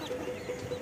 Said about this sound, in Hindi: ये मुर्गी का बच्चा है, ये 6 महीने का